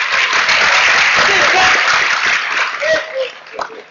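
Applause from a gathered audience at a Sinau Bareng event with a host and Kiai Kanjeng in Bungah, Gresik, loud dense clapping that thins toward the end while voices and a little laughter come through.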